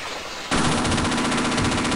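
Rapid automatic turret gunfire from the Half-Life video game, kicking in abruptly after a brief quieter lead-in and then hammering on as a loud, steady stream of close shots with no talking.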